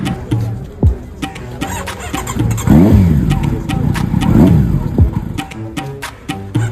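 A Kawasaki Z900 motorcycle starts from cold with a loud close engine catch, then idles and is revved twice in rising and falling sweeps, with a few mechanical clicks.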